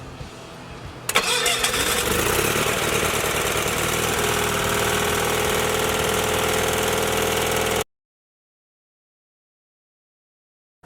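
A motorcycle engine cranks and catches, then runs at a steady loud idle for several seconds before cutting off abruptly into silence.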